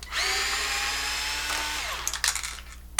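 A power drill whines steadily for nearly two seconds, backing out a top plate screw on a Traxxas XRT RC truck, then winds down, followed by a few short clicks and handling knocks up close.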